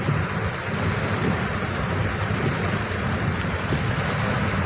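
Heavy monsoon rain pours down steadily and loudly, a dense unbroken roar with low rumbling underneath, close and continuous.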